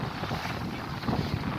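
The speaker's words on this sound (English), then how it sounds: "The wind's just getting a bit strong on the helm" Strong wind buffets across a sailboat with one reef in the main on the River Colne estuary, a dense roaring rumble of gusts against the microphone, loud and continuous with no voices.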